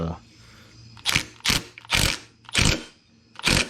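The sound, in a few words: torque wrench clicking while tightening a bolt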